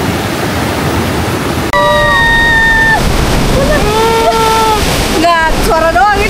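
Ocean surf at Menganti beach in Kebumen roars as a steady, loud wash of noise through the whole stretch, with voices talking and calling over it.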